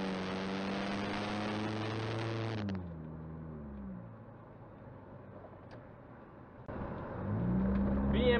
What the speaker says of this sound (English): I want you guys to look at this BMW i8. It's gonna pass me right now.